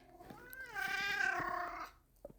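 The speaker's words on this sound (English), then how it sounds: "Don't meow at me after ignoring me" A pet cat gives one drawn-out, rising and falling meow, close and fairly quiet, with faint background noise around it.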